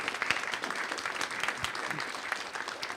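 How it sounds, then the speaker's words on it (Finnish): An audience applauds a speaker at the Savosec 2024 security event, a steady, dense wash of clapping throughout, fairly loud and close, with no one speaking over it. "annetaanpas isot aplodit Sami Laiholle."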